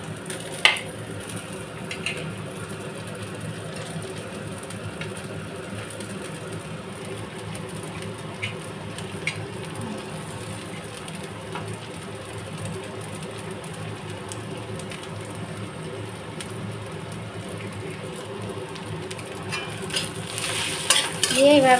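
Onions sizzle and crackle in a wok for a Bengali moroola fish chorchori while a spoon stirs and scrapes steadily. The frying is moderate in volume and continuous, with occasional sharper clicks and a louder burst near the end.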